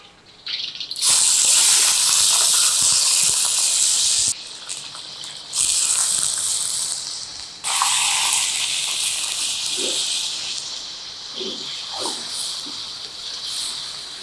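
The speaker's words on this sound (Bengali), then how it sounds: "চিকেনটাকে একটু ভাজা ভাজা করে দিব।" Chicken hits hot oil with garam masala and bay leaves in a pan, giving loud bursts of close sizzling hiss that rise sharply, briefly drop, then surge again before settling into a softer crackle, with no voices.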